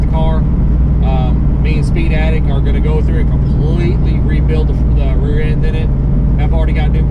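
A 1997 Mustang SVT Cobra driving with a steady low engine drone and a faint rear-end whine underneath, heard close inside the car while someone talks over it.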